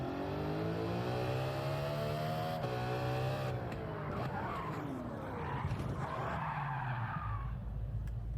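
A car in Gran Turismo 7 revs hard and then slides with loud, continuous tire squeal under a changing engine note, the skid lasting several seconds.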